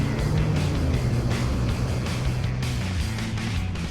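A Ram 3500 dually pickup with a Cummins turbo diesel runs hard down a quarter-mile drag strip, its engine a loud, steady, close roar.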